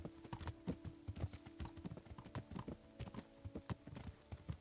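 Horse hooves clip-clop steadily while a team of harnessed horses pulls a cart along a road in Kingdom Come: Deliverance, the irregular near hoofbeats layered over a faint steady hum, with no talking.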